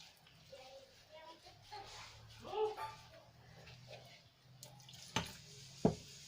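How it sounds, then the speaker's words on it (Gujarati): Water trickles in small additions into a bowl of batter for a snack made from leftover rotis, a soft, faint pouring and stirring sound under steady background noise with a couple of sharp clicks near the end. "થોડું થોડું પાણી આપણે એડ કરીશું જેથી કરીને ગાંઠો ન પડી જાય"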